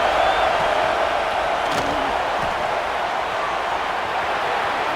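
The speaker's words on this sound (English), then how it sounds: "the crowd coming to life here, trying to help this defense down in the red zone" Stadium crowd noise in an American football video game with Ohio State playing, a steady, loud wash of roaring fans rising behind a defense in the red zone, with a faint thump partway through.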